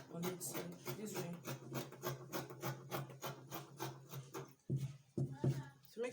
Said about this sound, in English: we'll be trimming out a little to make a slight curve on it